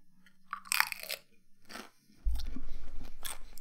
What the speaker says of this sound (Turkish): Bir de bak öyle bir kıtırtı sesi çıkartayım ki hepinizin karnı acıksın böyle.